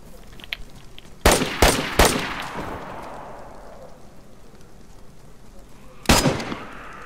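Video game gunfire: a loud cluster of three sharp shots, then a lull with faint background sound, then one more shot near the end.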